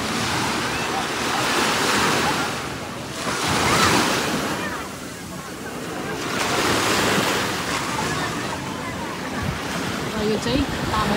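Waves surge onto Tamesa beach in Shenzhen, swelling and fading in broad rolls every few seconds, loud and near, with wind buffeting the microphone throughout.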